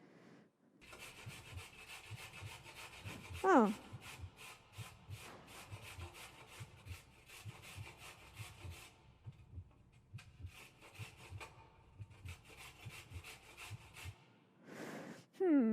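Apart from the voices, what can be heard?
grating carrots sound effect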